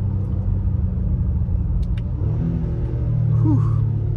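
A 2022 Honda Ridgeline RTL-E pulls hard in third gear, its engine giving a steady, loud drone and a low rumble that swells in pitch and volume toward the end, heard up close from inside the cabin.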